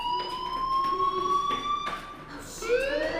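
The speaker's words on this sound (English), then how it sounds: "Hey, do you hear that fire alarm?" Electronic fire alarm tones sound indoors, steady high pitched wails with a shift in pitch near the end, moderately loud over a quiet room.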